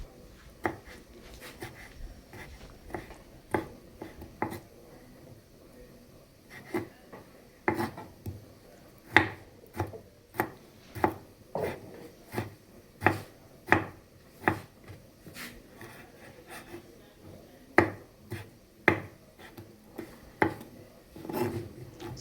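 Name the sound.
knife cutting tomatoes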